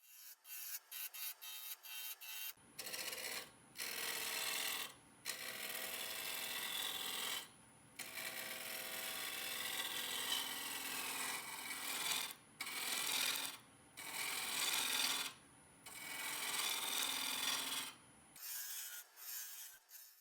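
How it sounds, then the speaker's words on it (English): A wood lathe spins a curly oak spindle blank while a spindle roughing gouge cuts it. The cuts come as sustained, loud scraping rasps broken by short pauses, close up and with no talk. "I'm using a spindle roughing gouge because this is a spindle blank."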